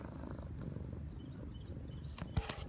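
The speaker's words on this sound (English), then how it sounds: "Are you purring?" A cat purrs close by outdoors in cold, snowy weather, a steady low rumbling purr, with a couple of brief sharp noises near the end.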